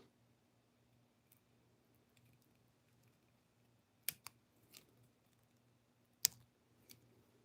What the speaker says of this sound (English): And then I'll cut this stem off.